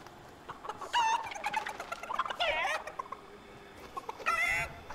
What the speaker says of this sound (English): There's a chicken.